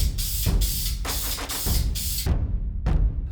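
Spray can painting a homemade portable tabletop black: several loud, close bursts of hissing spray, each lasting about half a second to a second, separated by short pauses, with a brief final burst after a gap.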